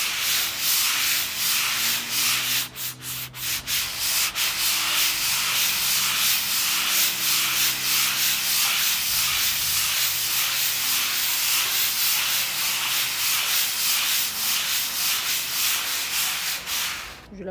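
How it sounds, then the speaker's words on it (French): An iron garden table is hand sanded, making a loud, continuous close-up rasping hiss that rises and falls in quick regular strokes, with a few brief knocks near the start and no talking. "Aujourd'hui, je vais poncer une table en fer et je vous montre comment je la ponce."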